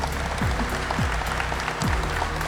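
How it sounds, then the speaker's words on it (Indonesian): A large audience of thousands claps at a business event, with steady dense applause and a few low gliding tones underneath. "Jadi mungkin tepuk tangan dulu boleh silakan."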